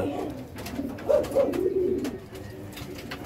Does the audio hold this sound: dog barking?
no